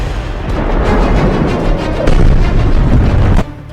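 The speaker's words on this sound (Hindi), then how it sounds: "ईरान और इजराइल की जमीन धमाकों से धधक रही।" Explosions in war footage from the Iran–Israel conflict boom one after another in a loud, dense barrage of rumbling blasts with a sharp burst near the middle, continuing until an abrupt cutoff.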